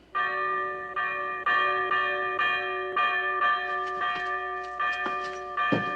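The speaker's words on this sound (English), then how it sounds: "Do you hear the bell, Victorine?" A bell hung above a shop door rings in repeated clear metallic strikes, about one every half second to second, each chime ringing on and overlapping the next at moderate volume with no voices.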